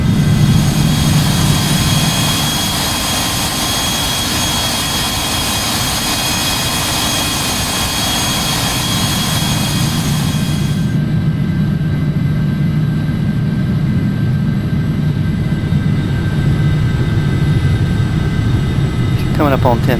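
The Hawker 850XP business jet's engines drone steadily in a flight simulator game, a loud, constant roar with a whine whose upper hiss drops away partway through, under ongoing talk.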